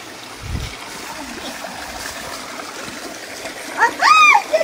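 Water pours and splashes steadily at a brick wall waterfall, a broad continuous hiss with a soft thump early on, then excited high cries and splashing near the end.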